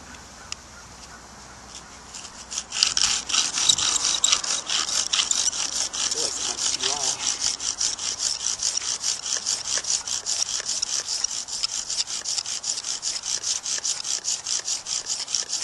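A bamboo chopstick spun in a bow drill against wood gives a steady rasping, sawing friction sound: rapid back-and-forth strokes start after a quiet moment and continue evenly and fairly loud to the end, with no talk.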